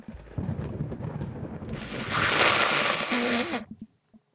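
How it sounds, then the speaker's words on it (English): Thunder effect from the dating game Dream Daddy: a broad rumbling roar swells in over music and low organ tones, peaking mid-clip before cutting off, followed by a brief quiet tail. "More thunder! More ominous organs!"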